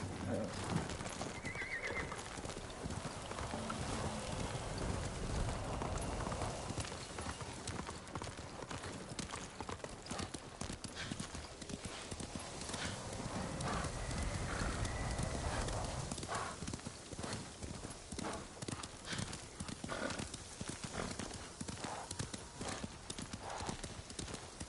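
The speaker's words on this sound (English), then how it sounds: "Take your horse again, Slime." A horse in the video game Ghost of Tsushima whinnies while its hooves clip-clop steadily and loudly across the whole stretch, with game music and faint talk layered underneath.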